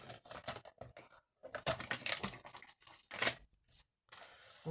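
Scrapbooking paper being cut by hand for a Christmas puffy craft project, giving a run of crisp snips and paper rustles in uneven bursts with short pauses, close and fairly quiet, with no voices.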